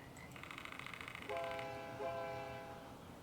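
A train carrying Conrail cars rolls through in a railroad simulation game, with a steady rumble under a sustained multi-tone horn that sounds in two overlapping blasts, fairly quiet overall.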